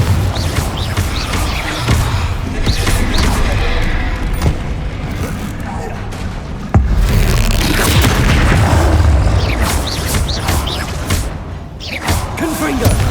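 Booming spell blasts from the Confringo blasting spell in the Hogwarts Legacy video game, with heavy low rumbles and crashing impacts repeating over a dense game soundscape, mixed with a voice casting spells.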